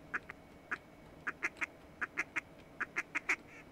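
Ducks quack during a duck hunt, a dozen or so sharp, evenly loud quacks that come singly and in quick pairs over quiet outdoor background.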